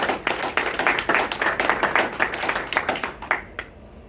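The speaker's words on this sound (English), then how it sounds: "And a big round of applause." A conference audience applauds after a presentation on modelling heat input in electric resistance welding. The clapping is fairly close and uneven, with crisp individual claps over a moderate crowd, and it thins toward the end.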